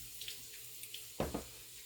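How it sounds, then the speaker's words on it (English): A kitchen sink tap runs steadily while hands are rinsed under it, giving a soft continuous stream with a few splashy bursts as hands move through the water. "once again, we're going to rinse our hands."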